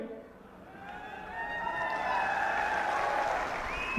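Crowd clapping at a Congress party political rally in Haryana, a steady, fairly faint wash of applause that swells slightly, with a voice speaking over it.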